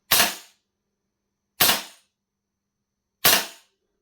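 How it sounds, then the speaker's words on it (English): VFC XM177E2 gas blowback airsoft rifle firing three single shots about 1.6 seconds apart, each a sharp, loud, close crack with a quick decay and silence between. "This is the VFC XM177E2 gas blowback airsoft rifle"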